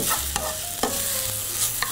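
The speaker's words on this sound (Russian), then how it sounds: "Жареная картошка." Thin strips of potato seasoned with salt, black pepper and spice sizzle in a frying pan while a utensil scrapes and stirs them in a few sharp strokes, close and alone with no talking.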